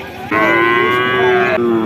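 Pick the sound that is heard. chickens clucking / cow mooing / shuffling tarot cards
cow mooing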